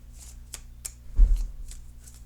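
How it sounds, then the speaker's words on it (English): Soft papery flicks and brushing as tarot cards are shuffled by hand, with one louder riffle in the middle, close and quiet. "Okay, so I'm shuffling."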